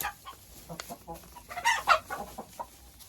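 Hens clucking in a small backyard coop at a country house, several soft, irregular clucks close by, with a louder burst in the middle and no voices.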